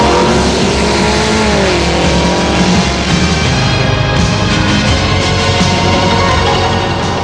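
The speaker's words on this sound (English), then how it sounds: "In the last quarter-final heat, Cedric Gregson in his Class D dragster came up against the Ford of Dion Jones." A Class D dragster and a Ford race side by side down a drag strip at Tarlton Raceway, their engines roaring loudly and continuously with rising revs throughout, close and dense, with no voices.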